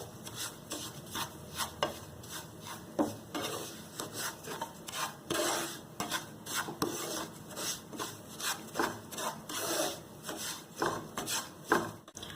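A spoon scrapes rhythmically across a pan as semolina fries in ghee on a low flame for aflatoon halwa. The strokes are close and repeated, with no talking.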